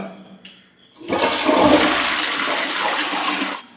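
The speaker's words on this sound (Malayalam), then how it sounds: "ഒന്ന് ഫ്രഷ് ചെയ്ത് കൊടുത്തു കഴിഞ്ഞാൽ ഒന്ന് മഞ്ഞ കറകൾ ഈസി ആയിട്ട് മാറുന്നതാണ്" A toilet flushes after a cleaning mix has been poured in, giving a loud, close rush of water that lasts a few seconds after a faint click of the handle.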